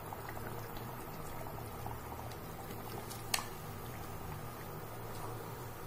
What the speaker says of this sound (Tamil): இப்போ இந்த இதில் தான் நம்ம சிக்கன் ஆட் பண்ண போகிறோம்.